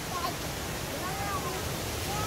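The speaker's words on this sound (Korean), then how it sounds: "계곡도 보이시죠? 물소리가 들리고." Steady broadband rush of stream water flowing through a mountain valley at Micheongol in Yangyang during autumn foliage season, continuous and fairly near with no break across the clip.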